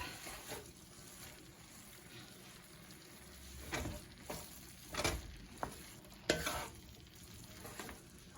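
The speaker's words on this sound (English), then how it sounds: "So I've added some Rotel tomatoes here and some black beans. Stir that up." Rotel tomatoes and black beans are stirred in a skillet, a faint low sizzle broken by several scraping, clattering strokes of a spoon against the pan, spread irregularly across the stretch.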